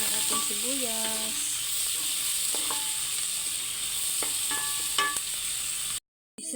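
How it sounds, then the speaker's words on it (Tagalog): Garlic and onions sizzle steadily in a hot pan while being sautéed for callos, with scrapes and clinks of a spatula against the pan and a short whistle-like tone early on, ending abruptly in silence. "Ayan, igisa natin yung ating sibuyas."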